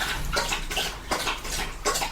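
A black Labrador lapping drinking water, rhythmic splashy laps repeating in bursts, close by and fairly loud with no talk over it.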